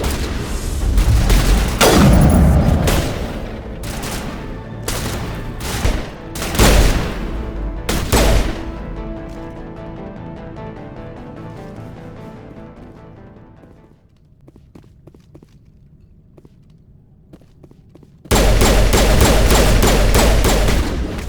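Sci-fi gunfire from a firefight in the game Mass Effect on the icy world Noveria: loud rapid bursts and booming shots with echoing tails, trailing into a quieter lull before another dense barrage erupts.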